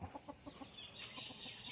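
Chickens on a backyard farm cluck in a steady series of short, close calls, with faint rooster-like sounds mixed in.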